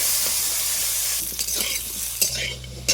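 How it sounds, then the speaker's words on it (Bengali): Potato pieces sizzle in hot oil while being browned for a Bengali katla fish and young jackfruit curry, a loud, dense frying hiss that thins toward the end, with scattered clinks of stirring. "সেই তেলে আলুগুলো দিয়ে দিচ্ছি লাল করে ভেজে নেব"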